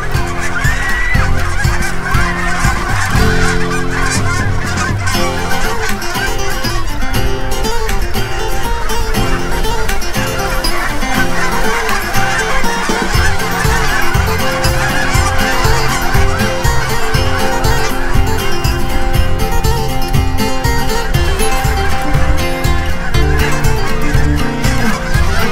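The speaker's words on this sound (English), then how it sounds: "Flight of the geese." A large flock of geese honks continuously overhead in flight, a dense, steady chorus of overlapping calls lasting throughout with no break.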